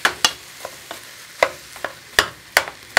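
Sharp scraping clicks of a metal spoon breaking up meat in a pan, about eight irregular strokes over a faint background sizzle.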